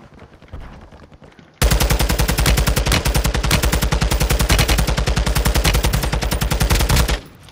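A TAC-56 rifle fires one long, rapid burst of gunshots in Call of Duty, loud and close, with no talk over it.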